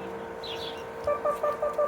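A bird calls outdoors during dog training, sending a quick series of short, bright chirps in a steady rhythm, fairly close and clear over low ambient noise.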